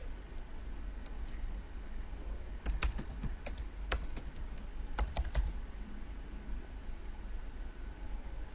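Computer keyboard keys are pressed in a few sparse clicks, then short quick bursts of typing, faint and close against a quiet hiss.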